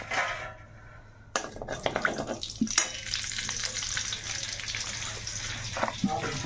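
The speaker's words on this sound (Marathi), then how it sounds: "हे बघा इथं मोहरी टाकणार आहे तेलामध्ये" Hot oil sizzles and crackles steadily as seeds are dropped in, with a few clinks and pops close by.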